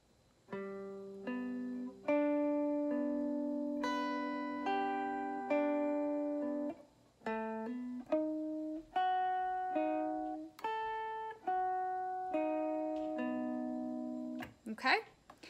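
Slow acoustic guitar playing of a song, plucked chord notes ringing out one after another in a gentle rhythm, close and clear, ending with a brief scrape.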